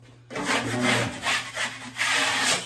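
A drywall seam coated with joint compound is scraped with a blade in several long rasping strokes, loud and close, each a steady gritty scrape with brief gaps between.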